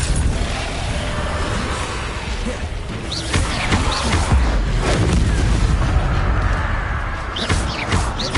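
Booming fire-spell explosions from the Confringo spell in the video game Hogwarts Legacy, layered into a dense, steady roar of combat noise with scattered sharper crashes throughout.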